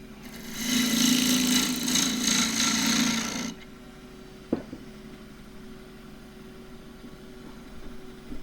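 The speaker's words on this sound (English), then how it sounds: "Flatten the top first, just using the wing of the tool." A quarter-inch gouge flattening the top of a Himalayan cedar bowl on a lathe gives a loud, rough rasping cut for about three seconds, then stops, leaving a quiet motor hum and a single sharp knock.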